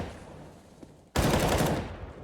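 An M4 rifle in Counter-Strike lets off a sudden close burst of loud rapid shots after a quieter stretch of game ambience, the crackle continuing for about a second.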